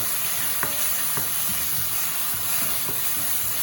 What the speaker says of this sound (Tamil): தக்காளியை போட்டு தொடர்ந்து ஒரு ஒரு நிமிஷம் கிளறங்குவோம்